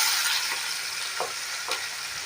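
Chopped onion and garlic fry in oil left from frying fish, a close, steady crackling sizzle broken by a few soft spatula scrapes and taps, with no talk.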